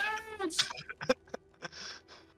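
A cat in the video game Divinity Original Sin meows in a few short, whiny calls amid scattered game sounds, fairly close and clear with no one speaking over it.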